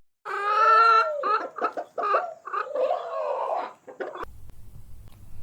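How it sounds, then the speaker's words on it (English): A chicken clucks and squawks in a run of harmonic calls, close and fairly loud, ending abruptly before a low hum. "Chicken."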